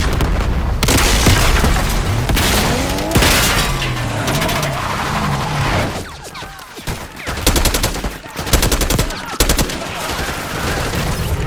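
Dense Call of Duty: Black Ops 6 campaign firefight: loud bursts of automatic gunfire and sharp single shots with booming impacts, clustering into rapid volleys near the end and running continuously without letup.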